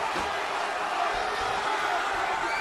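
A boxing arena crowd reacts after a point deduction, a steady, dense roar of many voices sustained throughout without a break.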